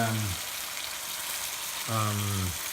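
Chicken breast and mushrooms frying in a pan give a steady broadband sizzle throughout, with two short bursts of low, harmonic voice or clatter at the start and near the end.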